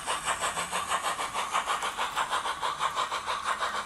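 Rhythmic chuffing exhaust from an OO gauge 2-6-2T model steam locomotive fitted with a Soundtraxx Econami sound chip, a steady fast beat of puffs rising and falling in loudness, with no talk.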